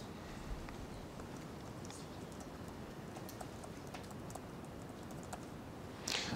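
Typing on a computer keyboard during a MATLAB lecture, with faint, steady key clicks running throughout against a noisy room background.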